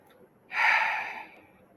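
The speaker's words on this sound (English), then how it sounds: "Take a nice long inhale." A single long, deep inhale drawn in through the nose, close and breathy, swelling quickly then easing off over about a second in an otherwise quiet room.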